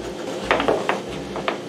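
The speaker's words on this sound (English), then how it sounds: "Now I'm going to take a chisel and just neaten this up a little." A chisel trims and neatens wood for a small deck being built onto the carrier of an MTD machine, giving a few short, sharp scraping and tapping strokes spaced out over quiet background noise.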